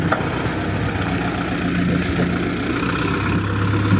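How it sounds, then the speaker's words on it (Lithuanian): A tractor engine runs at a steady idle close by, a continuous low rumbling drone with a slight knock and no talking over it. "Rimčiausias traktorius rinkoj."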